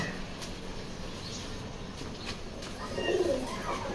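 Young Gorra breed pigeons coo softly amid a low continuous background murmur, the cooing growing slightly louder and fuller toward the end.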